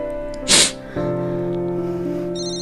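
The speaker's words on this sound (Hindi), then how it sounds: "भाई वानी का फोन आ रहा है" A mobile phone rings with an incoming call, its steady electronic ringtone playing on after a short sharp burst of noise at the start.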